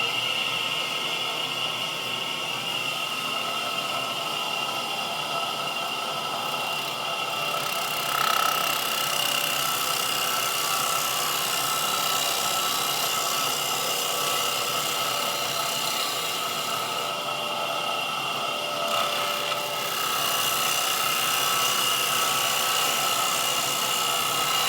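A half-inch bowl gouge cuts wood spinning on a lathe, a loud continuous whirring shear of motor hum and tool rasp that holds steady with slight swells throughout.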